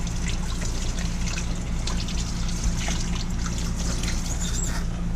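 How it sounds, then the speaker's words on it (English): Tap water runs in a steady stream during a quick hand wash, with irregular splashing and trickling that continues evenly throughout, close and fairly loud. "Quick wash for the hands."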